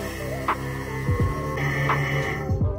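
A vacuum pump degassing investment in a flask for lost-wax casting gives a steady mechanical hum with a low throbbing pulse throughout, with a few brief clicks and knocks over it.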